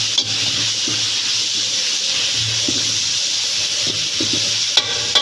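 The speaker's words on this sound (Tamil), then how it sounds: "அந்தளவுக்கு நம்ம ஆனியன் நல்லா சாத்தே பண்ணி எடுத்துப்போம்" Onions with salt are sautéed and stirred in a pan, giving a constant close sizzle with soft scraping strokes and a low hum underneath, ending on a couple of sharp knocks.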